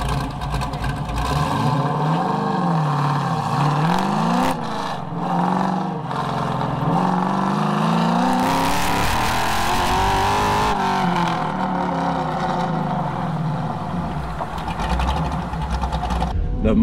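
Car pushed hard through an autocross course at Crows Landing, engine revving and dropping in waves through slalom and sweeping turns, with sustained loud engine drone close up and pitch swings as it accelerates and lifts.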